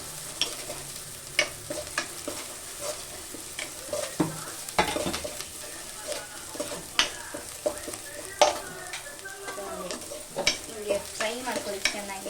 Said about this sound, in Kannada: ಫ್ರೈ ಮಾಡ್ಕೋಬೇಕು ಸ್ವಲ್ಪ ಗೋಲ್ಡನ್ ಬ್ರೌನ್ ಬರೋವರೆಗೂ.